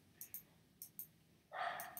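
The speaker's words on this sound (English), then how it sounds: "So you guys can literally hear my dog in the background barking." A small dog barks faintly in the background: a few short, distant yips in pairs, followed by a brief louder breathy whine or huff.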